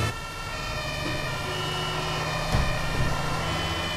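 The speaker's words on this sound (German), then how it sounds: "Leute, da ist ein Krankenwagen." An ambulance siren in the Omsi 2 bus simulator game wails steadily over a continuous vehicle engine drone, fairly loud and constant with no speech.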